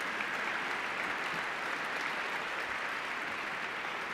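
Sustained, even applause from an audience at a National Science Bowl awards ceremony for the middle school champion team, dense and steady at moderate level throughout.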